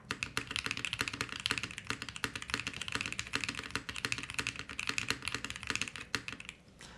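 Fast, steady typing on a Bauer Lite mechanical keyboard fitted with a PBT spacebar: dense clacking keystrokes at close range, fairly quiet, with no talking.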